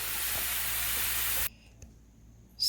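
Potatoes and onions frying in oil in a pan give a steady, loud sizzling hiss for about a second and a half, then the sound cuts off abruptly to near quiet.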